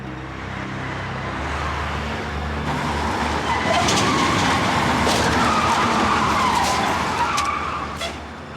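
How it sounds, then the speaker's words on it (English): Cars jam on their brakes and skid as another car cuts in front of them in a staged crash, loud continuous tire screech over heavy road noise, with no talking. "the swoop car appears and makes its move, forcing the other drivers to jam on their brakes"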